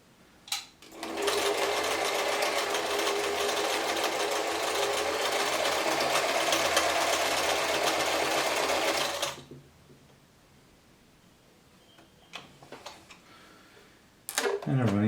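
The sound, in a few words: German-made Singer 720 sewing machine stitching patterns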